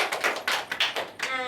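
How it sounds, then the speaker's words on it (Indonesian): A school class claps hands in a short, uneven burst of several sharp claps, close and fairly loud, with no talking. "Tepuk tangan dulu."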